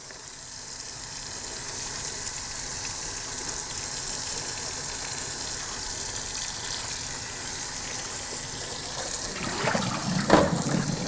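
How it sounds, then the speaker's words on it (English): Cold tap water runs steadily into a sink while salt is rinsed off fish on a grill-cooking show, a continuous broadband gush that swells with brief louder splashes near the end; no talking. "We'll wash all of that off really, really well."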